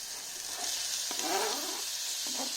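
Onions softening in hot oil in a pan for Vadakara-style meat rice: a steady, close hiss of sizzling with soft stirring movements passing through.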